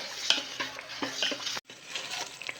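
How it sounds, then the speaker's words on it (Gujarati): Ghee and jaggery are stirred together in a pan as the base for gond pak, with a spoon scraping and clinking against the pan in close strokes over a soft sizzle and a brief break in the middle. "હલાવતા જઈશું ગોળની સાથે ઘી પણ મિક્સ થઈ જાય એ રીતે ગોળ ઘીનો પાયો કરવાનો છે"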